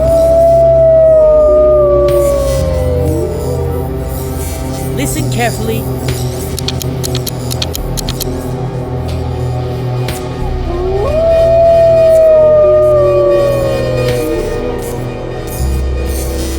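Two long wolf howls rise and glide down, one at the start and another near the middle, over steady background noise and a muffled rumble.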